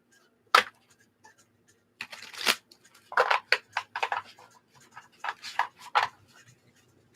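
Cards being shuffled up close in several quick riffling bursts separated by short pauses and soft handling sounds.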